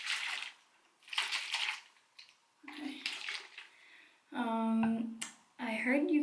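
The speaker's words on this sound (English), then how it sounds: "There has been some stuff that has settled at the bottom, so I'm just going to shake that up." A container of homemade rice water with sediment settled at the bottom is shaken, giving short bursts of sloshing liquid, followed by a person talking.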